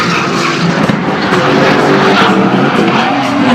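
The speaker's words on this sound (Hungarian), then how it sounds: "Teljesen más hangja van annak a soros japán hatosnak," Race car engine, a Japanese inline-six, running at full throttle at a Sebesség Fesztivál 2015 Semi Pro drift battle, a loud, steady roar holding throughout with faint crowd and track noise mixed in.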